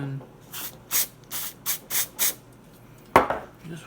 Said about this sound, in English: spray some of the contact cleaner in there